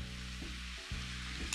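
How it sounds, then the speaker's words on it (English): Sauce poured into a hot pan, a close, steady sizzle with soft stirring and a faint metallic tick from tongs near the end. "Ooh, listen to that sizzle."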